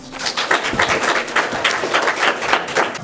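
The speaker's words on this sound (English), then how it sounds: "Please give him a round of applause." A crowd applauding steadily at a stock exchange opening bell ceremony, a dense patter of many hands clapping at once that stays loud and even throughout.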